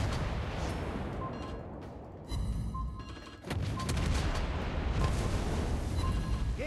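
Ship guns in World of Warships firing on an aircraft carrier: dense, rumbling broadband salvos that swell in steps and roll on continuously, with no distinct single reports standing out.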